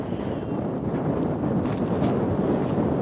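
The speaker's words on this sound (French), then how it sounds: "il y a du vent" Steady wind buffeting a microphone, a continuous low rumble with gusty rises, no voices.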